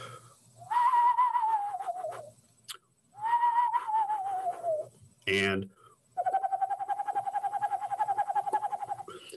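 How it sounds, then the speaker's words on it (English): Eastern screech owl calls from a tree-cavity owl: three descending whinny-like tremolo wails, the last a long steady trilling run, with a brief voice interrupting between them. "so that's the eastern screech owl."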